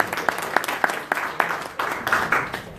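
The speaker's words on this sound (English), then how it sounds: "Let's give a round of applause for being set with Trams" A small gathering claps in a round of applause, individual hand claps clearly separable and fairly close, uneven in rhythm and building slightly toward the end.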